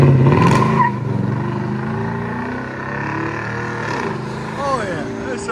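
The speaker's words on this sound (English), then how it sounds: "Toyota Tacoma with True Duals FLOWMASTER Super 10." A 2016 Toyota Tundra 5.7L V8 pickup with Flowmaster Super 10 true dual exhaust revs loudly and close, its deep engine note rising in sharp blips and settling back, with faint talking underneath.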